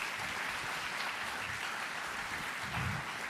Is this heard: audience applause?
yes